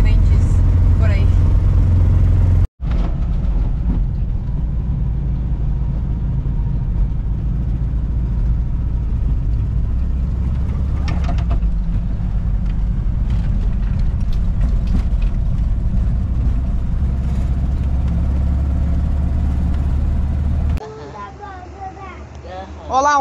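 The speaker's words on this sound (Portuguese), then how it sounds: "Olha lá, um caminhão, ó." Heavy engine of a fruit truck at the Argentina–Brazil border crossing rumbling steadily nearby, a low continuous drone with a brief break, while people talk over it.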